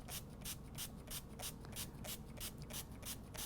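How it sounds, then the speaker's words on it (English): Vinegar sprayed from a spray bottle into a Ziploc bag, a steady run of about ten quick hissing pumps in even rhythm, close and fairly quiet. "you're just going to start to just spray the vinegar into your Ziploc bag"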